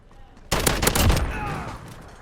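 An FAL rifle fired from the hip in the video game Modern Warfare: a loud burst of several rapid, close shots that ends in a ringing, echoing tail.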